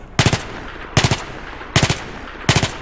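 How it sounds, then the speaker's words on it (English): FAMAS rifle with heavy barrel firing in burst mode in Battlefield 3, four evenly spaced three-round bursts, sharp and close, with a brief rattling tail after each and no talk. "I'm going to use the burst fire mode with the heavy barrel and just see where these bullets land"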